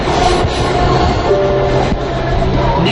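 Delhi Metro train running between stations, a loud, steady rumble of wheels and car noise with faint squealing tones, continuous throughout.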